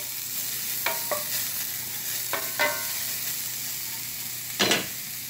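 Alcohol splashed into a hot pan with onions sets off a steady sizzle, broken by a few short scraping stirs and a louder burst near the end.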